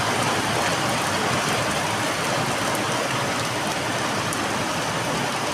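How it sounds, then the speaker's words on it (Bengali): Heavy rain pours down in a dense, unbroken hiss that stays loud and even from start to finish, with no voices. "বন্ধুরা শুনতে পাচ্ছ আওয়াজ, বৃষ্টির আওয়াজ?"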